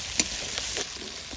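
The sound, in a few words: spice paste with chopped tomato frying in pan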